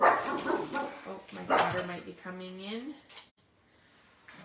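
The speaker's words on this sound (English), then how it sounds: "You can hear my little puppy is barking." Someone talks while a small dog barks and yips nearby, its high barks mixing with her voice.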